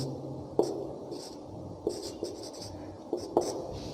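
Marker strokes on a classroom board, a series of short squeaky scratches in irregular clusters, fairly close and clear against a quiet room.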